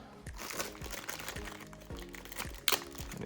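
Plastic packaging of a Takara Tomy Beyblade launcher being cut open with a knife, giving close crinkling and crunching of plastic with one sharper crackle near the end.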